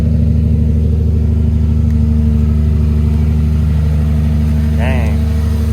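Nissan G35 idling steadily after a cold start, with a constant low engine drone throughout and a brief higher chirp near the end, with no talking.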